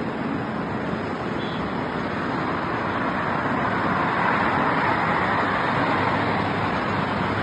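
Steady, broadband roar of traffic on a main highway near an airport, heard from a high viewpoint, continuous and fairly loud without distinct individual passes.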